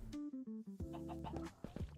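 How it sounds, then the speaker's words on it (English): A Minecraft chicken clucks in a quick series of short pitched notes followed by a few softer clucks, close and fairly quiet, with no speech. "A chicken."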